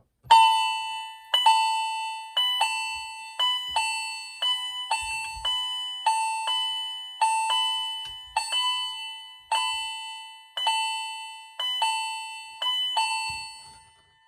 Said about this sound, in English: it is now time to hear the chime and the chime strobe together